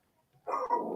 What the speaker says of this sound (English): Sorry about the dog barking and the wooing.